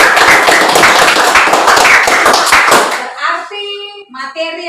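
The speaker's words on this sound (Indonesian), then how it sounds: "Tepuk tangan dulu untuk kita semua." Schoolchildren in a classroom clap their hands together in a loud, quick burst of rhythmic claps for about three seconds, followed by a few children's voices and sung tones.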